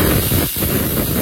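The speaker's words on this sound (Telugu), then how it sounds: "ఇప్పుడు 3 విజిల్స్ వచ్చి ఆవిరి కూడా పోయింది కదా" A pressure cooker cooking dal lets out a loud, continuous hiss of escaping steam, broadband and close, with a brief dip midway.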